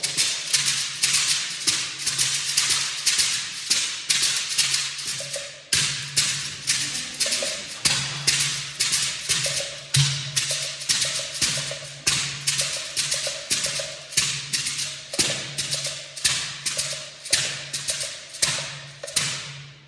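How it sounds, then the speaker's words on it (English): A shekere gourd rattle shaken in a steady rhythm, each shake a crisp burst of seashell beads slapping the gourd's outside, close and fairly loud with a brief pause near the middle. "the sound comes from the beads of the seashells rubbing or slapping against the outside of the shakeré"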